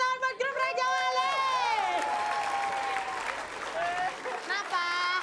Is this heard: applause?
yes